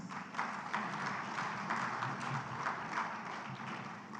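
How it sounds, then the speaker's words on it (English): Steady audience applause at a food systems conference stage, a dense even patter of many hands clapping throughout, as a European Union official is welcomed up to speak. "Please, with a round of applause."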